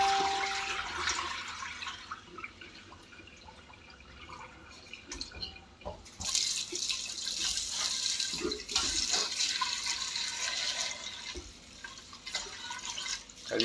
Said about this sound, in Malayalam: അരി അങ്ങോട്ട് കഴുകുക.